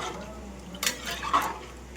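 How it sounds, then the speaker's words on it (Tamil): A spoon scrapes and clinks against a pot while mushroom biryani rice is stirred, two brief metallic knocks over a soft background hum. "இப்போ ஒரு வாட்டி நல்லா கலரி விட்டுக்கலாம்."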